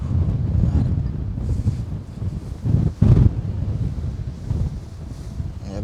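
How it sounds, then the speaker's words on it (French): Strong outdoor wind buffets the microphone in heavy low rumbling gusts, with a sharper blast about halfway through and faint wave-like whooshing behind. "Il y a beaucoup de vent, mais on fait avec."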